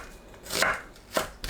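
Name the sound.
knife slicing onion into thin strips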